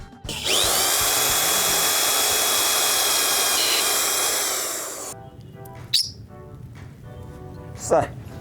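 A power drill whines loudly for about five seconds while drilling holes for placing artificial plants, then stops; a few short clicks and faint sounds follow in the quiet.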